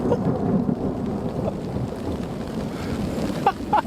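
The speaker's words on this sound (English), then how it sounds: "Massive storm going on out there." A heavy thunderstorm rages outside a lakeside camp on a wilderness canoe trip: steady, dense rain hisses under a low rumble of thunder, with a few sharper drips and crackles near the end.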